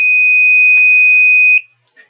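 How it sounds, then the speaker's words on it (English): A loud, steady electronic arming tone from a KK2.0 drone flight controller holds for about a second and a half, then cuts off, followed by a faint short chirp. "You get that tone to let you know it's armed."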